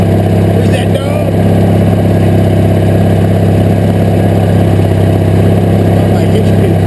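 Craftsman GT18 2013 lawn tractor with a V-twin engine idling steadily after a cold start, a close, loud, even low drone throughout with a brief bump near the start.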